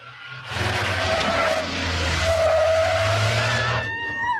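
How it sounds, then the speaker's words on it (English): A yellow van pulls away hard with a long, loud tyre squeal over a roaring engine, lasting several seconds before fading off. "the raiders drove off up Gladstone Road, followed by an accomplice driving this yellow van."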